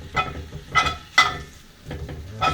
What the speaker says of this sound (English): we're going to put the bacon in the skillet here. We're going to brown up some bacon.